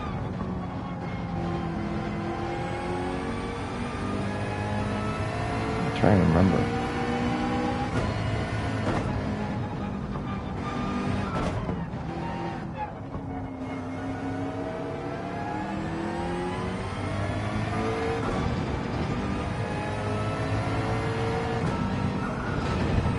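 A GT race car engine in Gran Turismo 7 drones and revs through gear changes around a track, pitch rising and falling steadily, with someone talking briefly over it.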